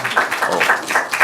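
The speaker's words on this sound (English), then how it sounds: "please join me to give a big applause to Keely again" An audience applauds a speaker at a positive neuroscience and mental health practice day, a short burst of steady, dense clapping that fills the room at an even loudness.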